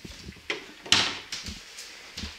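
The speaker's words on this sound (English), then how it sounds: "Let's close the door." A door is shut indoors: a few soft knocks and shuffles, then one sharper thud and lighter clunks as it settles, close by and with no talking.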